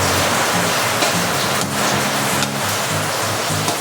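Heavy rain pours down steadily on a backyard cooking spot, a loud dense hiss with a low rumbling undertone throughout.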